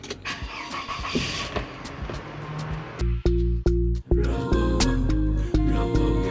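A car engine starts and settles into a steady run, preceded by a brief electronic alarm, with some background clatter before the engine catches partway through.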